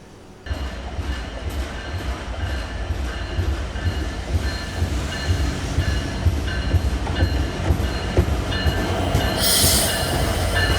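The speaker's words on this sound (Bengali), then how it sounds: "চলে আসলো মধুমতি এক্সপ্রেস, আর এই মধুমতি এক্সপ্রেসে করে আমরা চলে যাব ঢাকায়" The Madhumati Express from Rajshahi pulls into a station on the Padma Bridge line, wheels clattering rhythmically over rail joints with a loud steady rumble and a brief high squeal near the end, no talking.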